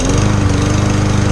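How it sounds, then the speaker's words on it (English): A lawn mower engine that has just cranked up runs loud and close, a steady rapid chugging drone with a constant pulsing rhythm and no voices. "this lawnmower here now, I'm gonna crank her up, make sure she is all right"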